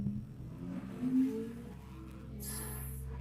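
A Ferrari engine revs and rumbles nearby on a Mexican ranch, a steady low drone with one brief louder swell, then a faint high hiss toward the end.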